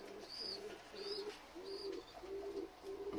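Pigeons cooing in a loft with new chicks, several soft low coos repeating at a steady pace, each followed by faint higher chirps, fairly close and with no talk.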